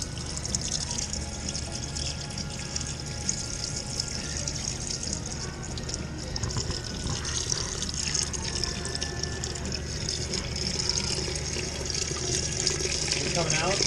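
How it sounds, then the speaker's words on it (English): Diesel is poured slowly into the transmission of a 1958 John Deere 420 tractor, a continuous trickling, gurgling liquid flow heard close up over steady low background noise. "I'm just going to pour it in and kind of get some of the goo out."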